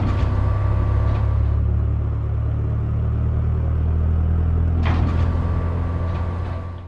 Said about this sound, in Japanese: 車はガレージに入れてください。